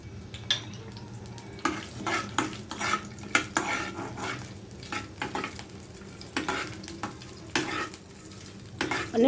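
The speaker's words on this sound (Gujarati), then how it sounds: "હવે જ્યાં સુધી કુકરની સીટી થાય ત્યાં સુધી આપણે ડ્રાયફ્રૂટને રોસ્ટ કરી દઈશું." Dry fruits roast in a spoonful of ghee in a kadai, with a soft frying sizzle broken by repeated clinks and scrapes of a spoon against the pan, close and intermittent, with no speech.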